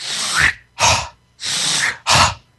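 A voice imitates a dog's reverse sneeze: four loud, harsh snorting breaths, alternating long inward snorts with shorter bursts, close to the microphone.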